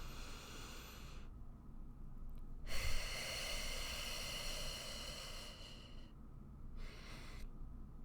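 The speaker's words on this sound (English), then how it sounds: "So take a deep breath with me." A slow, deep breath drawn in and released, airy and close, with a long inhale, a pause, then a long exhale, and no talking.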